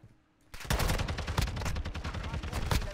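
Rapid bursts of automatic gunfire from a Call of Duty MW2 ranked match, starting after a half-second lull and then crackling continuously, loud and close, with shots in quick irregular volleys.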